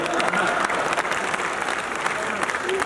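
Audience applause at a Hindi poetry recital, a steady dense clapping wash sustained throughout at moderate level, with some voices mixed in beneath.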